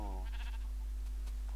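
A sheep in the video game Minecraft bleats twice, a short wavering call at the start and another at the end, loud and clear over a steady low hum with no talk.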